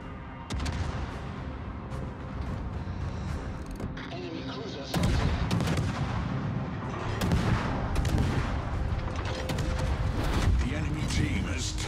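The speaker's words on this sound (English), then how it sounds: "Concentrate fire on the enemy warship." Naval artillery from a destroyer in World of Warships booms in repeated heavy salvos, loud and dense, with a stronger burst midway; a voice speaks over the gunfire.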